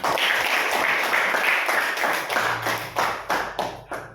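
A classroom full of pupils claps together loudly and steadily, the applause thinning into a few last scattered claps.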